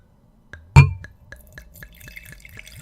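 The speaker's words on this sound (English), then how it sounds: "you got to pour it next to the mic so they can hear it to pour." Wine poured from a bottle into glasses right beside the microphone: a sharp glassy clink, then a steady, close rhythm of glugging splashes.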